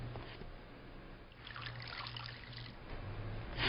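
Water trickles softly as a person's chest is washed under a towel during a bed bath in elderly care. The sound is quiet and continuous, with gentle splashes close by.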